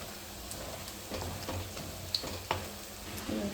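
Prawns fry in a pan with a soft, steady sizzle, broken by occasional clicks and scrapes of stirring; the sound is fairly quiet throughout.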